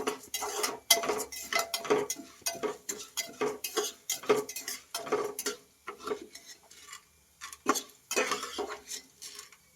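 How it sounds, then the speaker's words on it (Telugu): Spices being dry-roasted and stirred in a pan for a sesame chilli powder, a busy run of quick metallic scrapes and clinks from a spoon against the pan, close and rhythmic, with brief pauses. "ఇలా రెడ్ కలర్ వచ్చే వరకు ఫ్రై చేసుకోవాలి."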